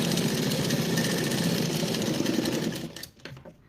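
Sewing machine running steadily while stitching a fine, small-stitch seam on garment fabric, a close, loud rapid whir that slows and stops near the end.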